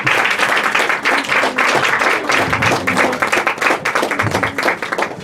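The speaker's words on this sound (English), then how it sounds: "please, with a resounding round of applause, welcome Krista Oriada" Dinner audience applauding at a House of Lords conference dinner, a dense, steady wash of clapping that holds for several seconds with faint voices mixed in.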